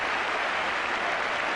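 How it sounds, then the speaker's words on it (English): Crowd at a 1980s Tottenham Hotspur football match applauding a winger's weaving run, a steady, dense wash of clapping filling the stand with no break throughout. "And just listen to the applause of the crowd"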